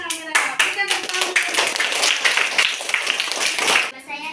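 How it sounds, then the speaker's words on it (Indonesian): Schoolchildren in a classroom clapping for a student group, a quick flurry of close handclaps that swells, runs together for a few seconds, then fades out, with voices mixed in. "Berikan tepuk tangan untuk kelompok 1."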